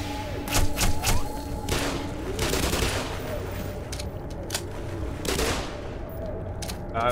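Gunfire in the video game Black Mesa, a series of sharp shots and thumping bursts spaced irregularly across the stretch, some rapid, with a faint game ambience underneath.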